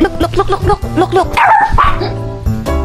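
A small pet dog yips and barks in quick repeated bursts close by, loud and excited, with a person talking over it in between.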